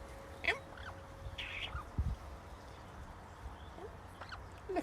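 A nearby magpie gives a few short, faint calls and chirps over quiet room ambience, with a low steady hum and a soft knock or two.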